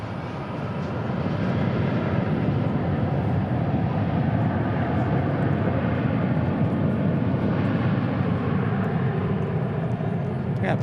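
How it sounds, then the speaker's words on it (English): Airliners taking off from runway 18 right at DFW, a dense continuous jet roar that swells in over the first seconds and then holds steady and strong, with voices talking faintly underneath. "we got like 1, 2, 3 departures taking off here on 18 right"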